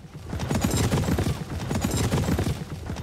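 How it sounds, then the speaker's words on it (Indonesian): A horse gallops away through a back door in a film scene, a dense, loud, continuous drumming of hooves with heavy low thuds and no pauses. "Ari kabur dengan menggunakan kuda lewat pintu belakang"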